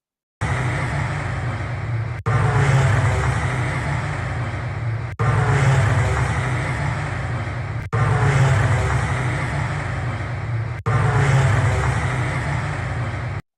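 Ram air turbine on a plane crashing in Ahmedabad: a loud, steady, whining roar that runs in five long stretches, each cut off by a brief break.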